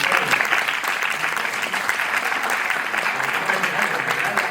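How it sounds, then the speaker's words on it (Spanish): An audience applauds a recital with a dense, steady patter of clapping hands that holds at an even level from start to finish. "venga, un fuerte aplauso para"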